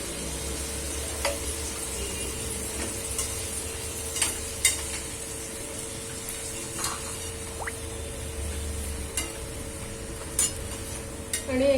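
Paneer butter masala gravy with cashews and red chilies simmers in a pan, giving a soft continuous bubbling and faint sizzle with occasional small pops and stirring clicks.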